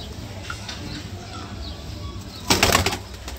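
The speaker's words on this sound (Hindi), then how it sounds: "चलिए एक तो उड़ा दिया मैंने, एक तो उड़ गया" A bird's wings flap in a quick, loud flurry as it takes off and flies away, following a few seconds of quiet outdoor background.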